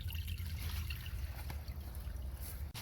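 Low-pressure water from a garden hose trickling through a French drain pipe in a yard drainage system, a soft, steady gurgling flow with a low rumble throughout.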